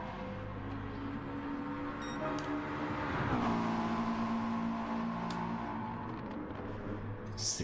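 A McLaren race car engine drones steadily in a racing video game, its pitch sweeping up and down through a gear change midway, with continuous broadband road noise underneath and no talking.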